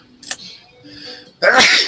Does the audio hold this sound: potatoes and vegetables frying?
no